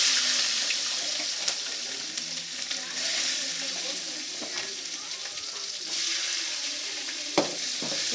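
Garlic sizzles in hot oil in a pan already crackling with mustard seeds and curry leaves, a steady close-up frying hiss with occasional clinks from stirring.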